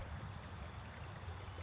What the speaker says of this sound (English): That's just the water flowing out of the Waste Weir, but they reconnect right here.